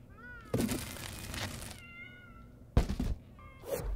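A cartoon cat meows in South Park: The Fractured But Whole, with several distinct meows and soft game thumps amid quiet background sound.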